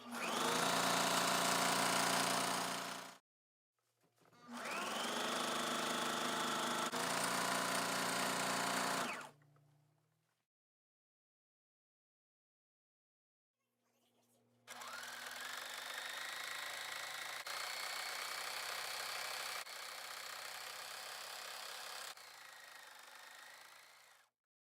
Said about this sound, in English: We're ready to sew it right now. I just use a 1/4 inch seam, and we're gonna sew all the way from the top down to the bottom.